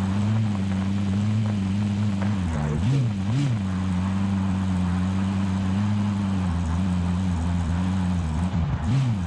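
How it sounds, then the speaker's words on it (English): Helicopter flying in a video game, its rotor and engine a steady loud droning hum with brief wavering pitch swoops as it manoeuvres. "What are those guys doing racing in the chopper?"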